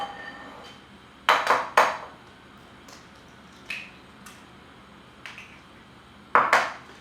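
Eggs, about five of them, are tapped and cracked against a pan in a home kitchen, giving sharp clustered knocks in a few separate bursts with quiet gaps between, close and clear.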